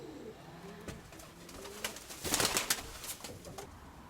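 Soft pigeon cooing, a few low throaty coos repeating close by, with faint rustling and light background noise.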